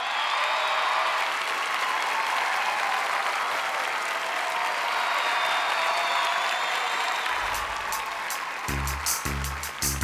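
A large television audience applauds and cheers for a band from Nashville, a loud continuous wash of clapping that carries on as drums and music begin to kick in at the end.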